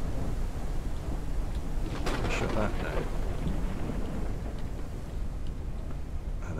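A thunder and lightning storm rumbles in the Forever Skies airship survival game, steady rain hiss under a loud crack and rolling thunder near the middle, with a voice speaking briefly.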